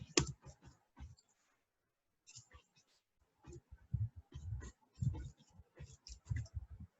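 Keys tapped on a computer keyboard while a project name is entered, quick irregular clusters of clicks with short pauses, close and fairly quiet.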